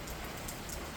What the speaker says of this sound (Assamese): বাহিৰত বৰষুণ।